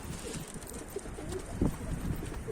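A Mardin tumbler pigeon chick gives a soft, low cooing call close by, brief and moderately quiet against faint background noise.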